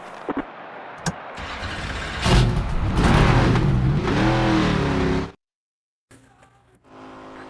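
Race car engines rev loudly in NASCAR 25 qualifying at Michigan, a roaring burst that rises and wavers for a few seconds, cuts off abruptly into silence, then returns as a quieter idle hum.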